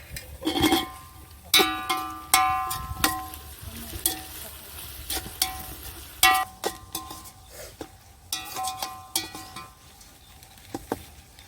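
Chopped onions and green chillies fry in a pan for prawn biryani. Irregular loud clinks and scrapes of a metal spatula cut over a bright, crackling sizzle that rises and falls.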